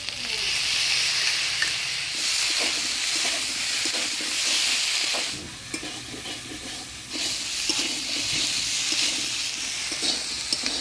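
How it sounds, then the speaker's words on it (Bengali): Potatoes and eggplant frying with ground spice paste and ginger paste in a Bengali kitchen, a steady close sizzle with stirring scrapes throughout, briefly quieter midway. "আলু বেগুনটা ভালোভাবে আমি কষিয়ে নিলাম মশলা দিয়ে"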